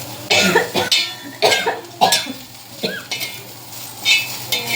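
Several sharp coughs come in bursts, close by, amid faint kitchen clatter and sizzling in the background, as pungent cooking fumes fill a home kitchen.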